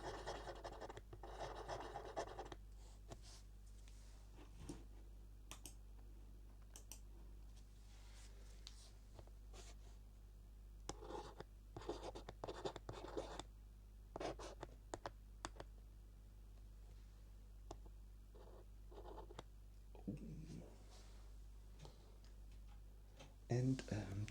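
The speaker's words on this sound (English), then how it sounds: "So maybe I write it here." Pen or pencil scratches and taps on paper while a logic puzzle is worked out, soft close strokes in irregular clusters with gentle rubbing, under quiet intermittent speech.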